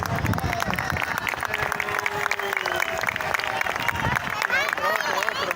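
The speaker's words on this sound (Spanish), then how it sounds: "hay que aplaudirle" Spectators clap and cheer along the roadside as a cyclist arrives at the Volta a Catalunya stage finish in Vilanova i la Geltrú, a steady crowd noise running throughout with people talking nearby.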